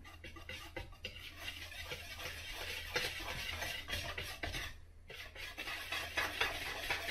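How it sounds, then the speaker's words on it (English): Dry ingredients for banana bread, including baking soda and cinnamon, whisked together in a bowl: a steady, fairly faint scraping and swishing that runs continuously, with one brief pause. "now we're just going to whisk this all together"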